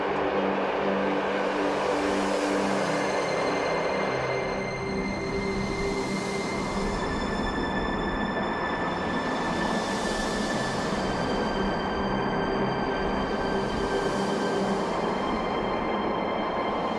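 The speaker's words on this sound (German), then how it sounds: "Im Güterverkehr rollt überwiegend die Baureihe 140." A freight train hauled by a class 140 electric locomotive rolls along the Moselle line, a steady loud rumble of wagons and wheels with ringing rail tones, sustained through the whole passage without talk.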